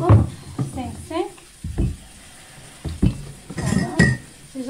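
Coffee cups clink against each other while being washed, a few sharp scattered chinks between stretches of talking.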